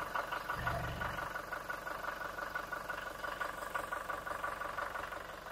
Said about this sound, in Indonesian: suara mesin aman